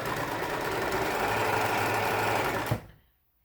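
A sewing machine stitching fabric bag straps runs steadily with a dense, continuous mechanical whir that stops abruptly near the end, leaving silence.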